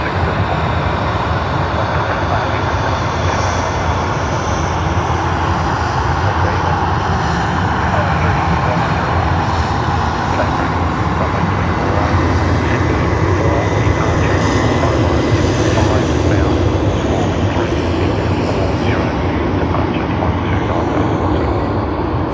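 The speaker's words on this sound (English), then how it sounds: "Philippine Airlines A330-800. They are going to the gate." A Philippine Airlines Airbus A330-800 taxis at Sydney Airport, its jet engines giving a steady, loud, broad roar that holds evenly throughout without letting up.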